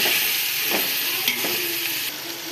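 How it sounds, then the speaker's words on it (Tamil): Tomatoes with mint and coriander leaves sauté in a pan for biryani. A loud, close, steady sizzle runs throughout, broken by a couple of brief stirring scrapes. "தக்காளி சேர்த்து நல்லா வதக்கி விட்டுக்கலாம்"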